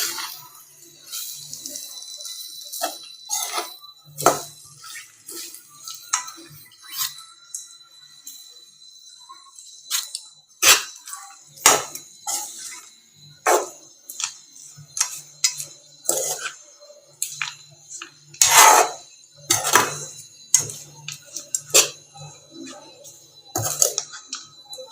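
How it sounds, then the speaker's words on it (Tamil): Cooked coconut rice being stirred into a pan a little at a time, with irregular light scraping, tapping and clinking of a spoon against the pan, some louder clacks, and no talk over it. "கொஞ்சம் கொஞ்சமாக போட்டு கிளறிக்கோங்க"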